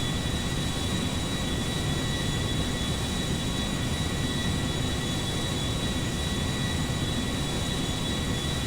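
Boeing 737 MAX-9 airliner in GTA 5 flying low over a lake, a steady, loud broadband engine roar and rushing wind that holds constant throughout without talk.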